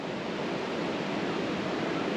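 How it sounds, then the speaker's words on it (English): Umpqua River running high and strong with snowmelt beside a campground in the Umpqua National Forest, a steady broadband rush that stays constant and close for the whole stretch, with no voices. "So the water's flowing really good and everything because of the snow melt in the area"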